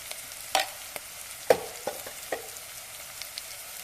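Spices tempering in hot oil in a pan for a raw mango rasam, a soft steady sizzle with a few light stirring clicks and taps, close and fairly quiet.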